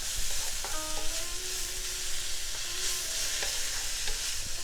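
Vegetables sautéed with soy sauce in a pan over high to medium heat, stirred with steady scraping and soft sizzling, plus a few clinks of a utensil against the pan, close and with no talking.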